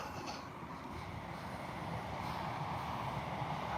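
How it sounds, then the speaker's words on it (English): A train rumbles past steadily, a broad, continuous low roar with faint wind noise, holding at an even level throughout with no voices over it. "It's a train."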